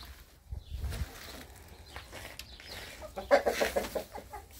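Chickens clucking and a rooster calling nearby, with low rustling farmyard noise underneath.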